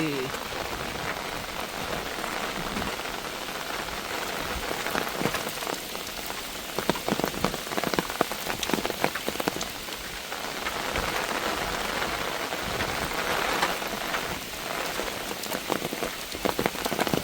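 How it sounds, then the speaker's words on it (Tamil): Heavy storm rain pours down in Jaffna, a dense continuous hiss of drops drumming on surfaces, loud and steady throughout with no pauses. "மழை வந்து திரும்பவும் பெருசாக பெய்ய தொடங்கிட்டு"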